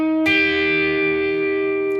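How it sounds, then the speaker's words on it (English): Two clashing notes on an electric guitar ring out through distortion, struck once and sustained with a buzzing, beating grind that holds steady for nearly two seconds with no talking. "Listen to the grind. It's like those 2 notes are clashing."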